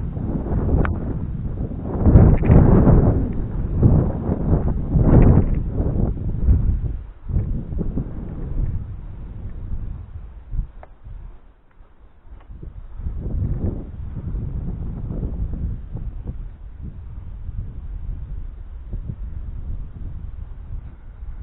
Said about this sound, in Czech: to je fakt vichra